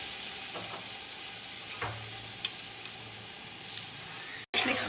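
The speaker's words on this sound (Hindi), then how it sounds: "मिक्स करेंगे इसको अच्छे तरीके से" A spoon stirs salt into a pan of sauce for chicken Alfredo spaghetti, making soft scraping strokes over a faint steady sizzle, with a brief clatter near the end.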